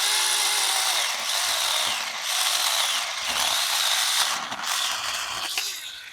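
A cordless mini chainsaw cuts through dry hardwood with a continuous high, buzzing chatter. The whine dips and surges as the chain bites, heard close and loud with no talk.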